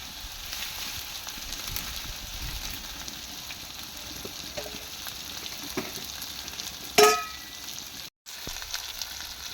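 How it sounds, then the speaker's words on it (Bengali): Chicken and potato frying in a pan with spices, a steady broadband sizzle running throughout at moderate level, with a brief clink near the end and a short dropout after it. "ভেজে মশলাগুলো দিয়ে দিচ্ছে"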